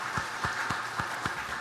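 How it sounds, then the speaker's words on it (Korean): A church congregation claps during a Sunday morning worship service to welcome newly registered members, a steady patter of applause with a few louder clap bursts, fairly faint and without talk. "우리 박수로 환영합니다"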